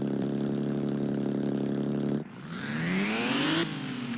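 A Nissan 370Z in Roblox Driving Empire idles with a steady loud drone, then cuts out abruptly and revs upward in a rising whine before dropping back.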